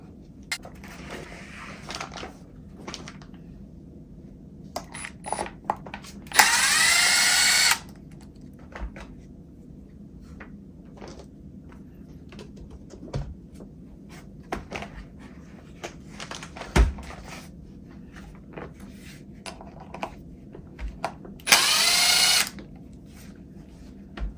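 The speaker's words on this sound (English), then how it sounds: "we're gonna take the front tires off, so it's easy to take the bumper off" A power drill works on the front wheels of an Element RC crawler, its two bursts of high whining spin standing out from scattered clicks and light handling taps, close and alone.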